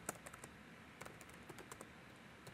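Quiet, close typing on a computer keyboard while a message is written in Word, with irregular clusters of soft key clicks and short pauses between bursts.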